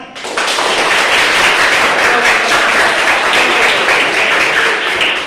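A classroom of students clapping hands together in praise of a group's answer, starting abruptly and holding a loud, dense, steady patter close to the recorder.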